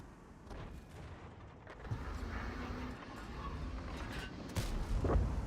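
Tank cannon shots in a tank video game, heavy booming reports set among sharp transient bursts over a busy game soundscape, with several loud hits toward the end.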